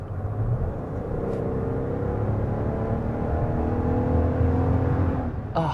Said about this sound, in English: Even when you gun the engine,